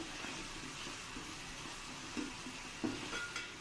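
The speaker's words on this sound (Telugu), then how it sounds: "ఒక రెండు స్పూన్లు అల్లం వెల్లుల్లి పేస్ట్ వేసి అది కూడా చక్కగా ఫ్రై చేసుకోవాలి" Two spoonfuls of ginger garlic paste fry in a pan with a soft, steady sizzle, joined by a couple of brief clinks of a spoon against the pan, quiet and close.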